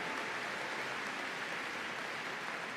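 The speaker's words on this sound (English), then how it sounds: "a big round of applause for our Gundogs display" Crowd applause fills the arena after a gundog display at Crufts 2022, a dense, even wash of distant clapping from a large audience that stays steady and fairly quiet throughout.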